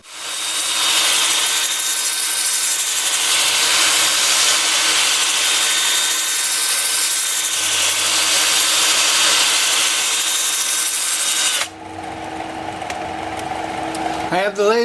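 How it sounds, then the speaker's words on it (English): Steady, loud abrasive whirring of black walnut being sanded with 80-grit paper on a lathe spinning in reverse at 350 RPM, continuous for most of the time, then changing tone as the motor winds down. "Time for sanding."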